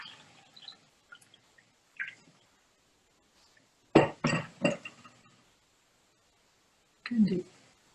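Glass clinks as a glass of water is picked up and set down during a quiet meditation: three close, bright taps in quick succession, then a single softer knock after a pause, with faint handling noises between.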